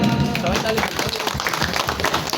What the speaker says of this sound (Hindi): সবাই একটু তালি দিবেন।